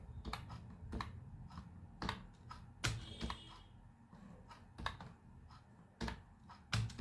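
Rapid typing on a computer keyboard while writing C code, with irregular bursts of crisp key clicks and occasional louder taps, close and clear, with no talking.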